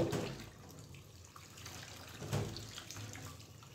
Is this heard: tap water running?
yes